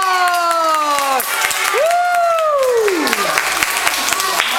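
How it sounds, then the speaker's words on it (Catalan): Audience applauding the actors at the end of a children's Christmas play, loud continuous clapping and cheering with sung or held voice tones gliding over it. "aplaudiu ben"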